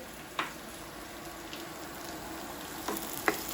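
Onions frying in a pan while cooking salmon, rice and lentils, a quiet, steady sizzle with a few sharp clicks and stirring scrapes scattered through, no talking.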